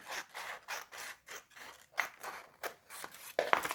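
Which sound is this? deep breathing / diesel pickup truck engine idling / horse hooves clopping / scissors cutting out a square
scissors cutting out a square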